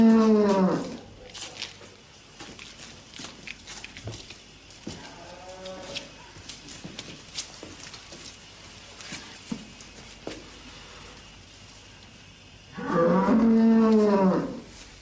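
A big, roomy cow moos loudly and close by, with one long low call at the start and another near the end, separated by quieter barn sounds and a few faint other calls in between.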